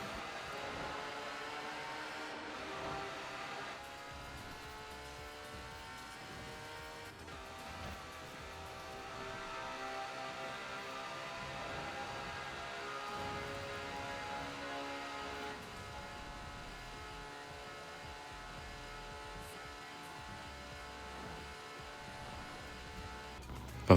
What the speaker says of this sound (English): So I took the best car in the game and I just floored it on the highway.